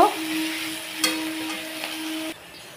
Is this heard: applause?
no